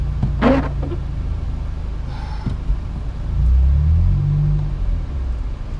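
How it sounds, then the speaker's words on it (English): A van reversing in a car park, its engine rising into a low, swelling rumble midway through, steady road noise around it and a brief clatter earlier on. "why else would that van be reversing?"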